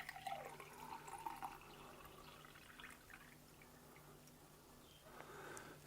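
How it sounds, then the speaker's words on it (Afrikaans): Water poured from a container into a drinking glass during a children's church lesson, a soft continuous trickle and splash at moderate distance, fairly quiet, with a steady low hum underneath and no talking. "As ek nou hierdie water in die glas gooi,"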